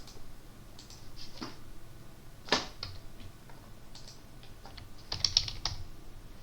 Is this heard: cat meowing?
no